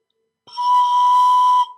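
A single pan flute note played with the pipe opened gives a broad, soft, breathy tone, held steady for just over a second, close and clear with no other sound.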